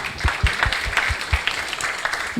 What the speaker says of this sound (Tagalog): sige, tuloy po natin palakpak